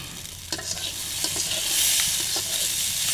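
Potatoes fry on a wood-fired stove in a rustic village kitchen, with continuous close sizzling and occasional stirring scrapes and no talk.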